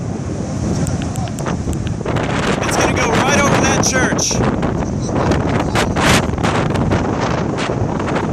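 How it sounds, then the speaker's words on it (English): Strong wind near a tornado in Moore, Oklahoma buffets the microphone in loud, rough gusts that swell and surge, with someone talking over the roar for a few seconds. "It's getting pretty windy out here."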